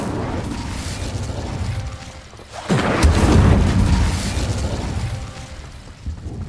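A magical fire spell, Incendio, cast in a wizarding-world action game, bursting out as a loud whooshing boom with a rumbling roar that swells and lingers for several seconds before fading.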